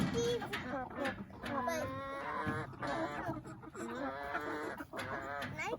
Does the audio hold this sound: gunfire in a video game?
no